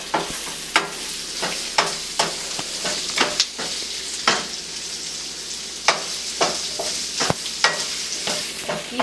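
Onions fry in a pan over medium-high heat for malai onion sabzi, with a continuous loud sizzle broken by repeated scraping stirs of a spoon against the pan.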